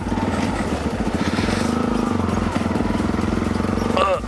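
A motorcycle engine runs with a steady, close, throbbing low rumble and mechanical clatter throughout, briefly rising at the very end.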